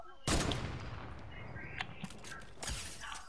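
Rapid bursts of video game gunfire crackle loudly in two clusters, a heavy volley at the start and another near the end, with a busy, noisy mix between them.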